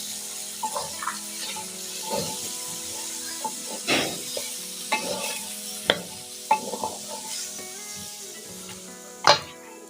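Mixed vegetables with chopped carrots stir-fried in a pan for vegetable pulao; a steady sizzle runs throughout, broken by irregular scraping stirs and clatters, close and without talk.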